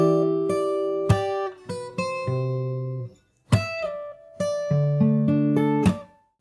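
Fingerstyle acoustic guitar playing a section of a song from the start, clear plucked notes and ringing chords in two short phrases separated by a brief pause, with percussive string hits marking each phrase.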